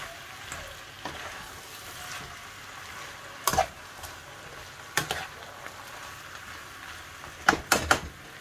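Honey chicken and vegetables frying in a pan, a steady soft sizzle throughout with occasional sharper clatters of stirring, moderately close and without talk.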